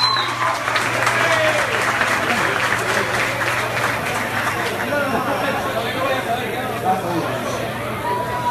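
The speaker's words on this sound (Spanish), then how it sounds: "Así que este aplauso que sea fuerte para todos ustedes." An audience claps loudly and steadily at a live acoustic concert, a dense continuous wash of applause mixed with crowd murmur and a low steady hum underneath, holding its strength to the end.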